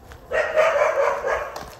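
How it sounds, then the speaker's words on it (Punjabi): A dog barking in a village street, a short burst of loud, close, overlapping barks that fill most of the clip without any talking. "ਜਦੋਂ ਵੀ ਆਪਣੀ ਗਲੀ 'ਚ ਐਂਟਰ ਹੋਣ ਲੱਗਦਾ ਭੌਂਕਦਾ ਕੋਈ,"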